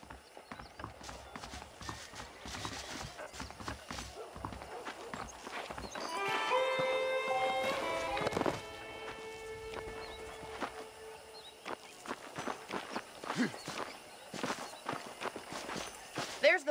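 Horse hooves clip-clop at a steady walking pace in Red Dead Redemption, close and clear, with a neigh partway through and voices talking over them.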